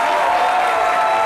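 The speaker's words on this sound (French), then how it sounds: "Applaudissez-vous, les gars." A studio audience at a midday French-language television show claps together in a dense, steady burst of applause that fills the whole short moment without pause.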